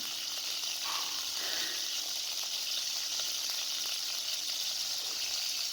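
Finely chopped boneless chicken sizzles steadily in a pan over a medium flame for an omelette, a constant bright hiss with a few faint scrapes, no voices.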